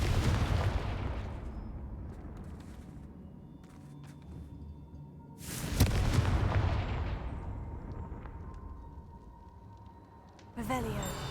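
Confringo fire-blast spell explosions in Hogwarts Legacy on PlayStation 4: three loud booming blasts, each followed by a long fading rumble, with the last one cut short at the end.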